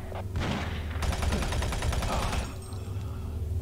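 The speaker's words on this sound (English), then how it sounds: "Ooh, machine gun." Machine gun fire in a video game: a rapid, steady burst of close shots lasting more than a second, loud and dense, set against a low rumbling game backdrop.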